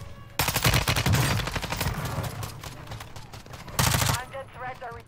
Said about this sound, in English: Enemy soldier incoming. I've been spotted. I'm being shot at.